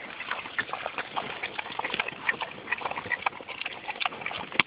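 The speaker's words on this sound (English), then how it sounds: "the pigs are gobbling them up as fast as they can" Pigs munch and crunch acorns, a dense mix of cracking, chomping and snuffling noises, moderately close and continuous.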